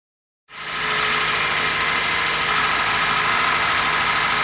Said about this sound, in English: That's a misfire.